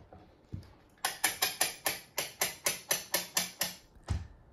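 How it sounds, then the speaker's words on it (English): A steel hinge mechanism on a Priory Crosswire drawing board clacks through a run of about a dozen sharp, evenly spaced metallic clicks, loud and close, like a ratchet being cranked open. "That's either loud or satisfying, depending on if you like steel mechanisms."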